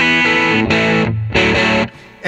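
Electric guitar played through a modeled Fender 57 Custom Pro tweed amp with reverb in the Fender Collection 2 iPhone and iPad app, sustained chords ringing with a slightly distorted, shimmering tail, loud and close with brief gaps between strums.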